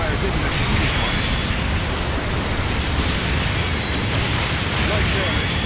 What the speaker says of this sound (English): Long range supporting fire is a go.